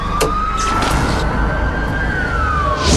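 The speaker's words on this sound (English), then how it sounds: "There's a police car there." A police car siren wails loud and close on a Los Angeles street at night, with a long rising and falling tone and traffic noise rumbling underneath.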